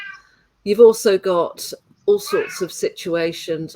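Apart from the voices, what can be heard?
cat meowing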